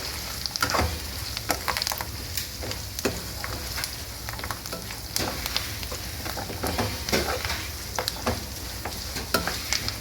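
Roasted gram fries and sizzles steadily in a pan for a beaten rice or puffed rice seasoning, with a continuous crackle and frequent scraping stirs.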